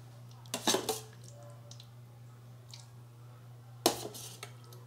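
Dishes clink as fried tilapia is moved onto a serving plate, with two short bursts of clatter separated by a steady low hum.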